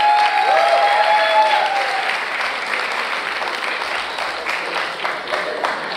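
Audience applause at a reception, dense steady clapping from a crowd that stays loud and close, with a brief cheer or whistle near the start before it slowly eases.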